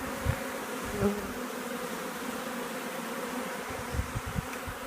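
Honeybees from a newly installed package crowd a hive feeder, giving a steady, close, low buzzing drone with a few brief louder swells.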